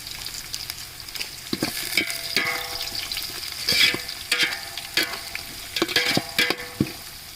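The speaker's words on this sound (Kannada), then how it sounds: "ಪುದೀನ ಅದು ಎಣ್ಣೆಲೆ ಫ್ರೈ ಮಾಡ್ಕೊಬೇಕು" Mint, coriander and other spices and herbs frying in oil for egg biryani, a steady close sizzle broken by repeated sharp clinks and scrapes of a stirring spoon against the pan.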